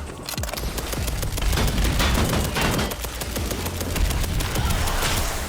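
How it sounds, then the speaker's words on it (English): Rapid gunfire from a muzzle-equipped gun in the cyberpunk roguelike game Dark Light: Survivor, a dense, loud, continuous stream of shots with booming low-end impacts throughout. "Just change the sound effect for the gun as well."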